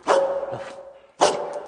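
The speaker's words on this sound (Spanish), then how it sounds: "vamos a quitarle el premio para que veamos cómo le ladra a 5 centímetros de la cara si suelta" A retired police dog gives two loud, close barks about a second apart, each sharp and ringing with a short tail, in a studio setting.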